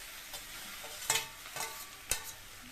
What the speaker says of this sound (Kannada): ಇವಾಗ ಟೊಮೆಟೊನೂ ಹಾಕ್ಕೊಂಡು ಟೊಮೆಟೊ ಮತ್ತು ಬೆಳ್ಳುಳ್ಳಿ ಎರಡೂ ಕೂಡ ಹಾಕ್ಕೊಂಡು ಚೆನ್ನಾಗಿ ಫ್ರೈ ಮಾಡ್ಕೋಬೇಕು